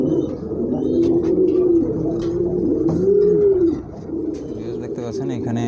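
Pigeons at a sale coo in repeated rolling, rising-and-falling calls, close and loud, with a few sharper clicks and rustles around them.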